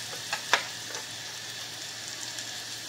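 Garlic cloves drop into hot oil for a raw mango curry, giving a soft, steady sizzle with a couple of brief crackling pops near the start. The whole sound stays faint and close.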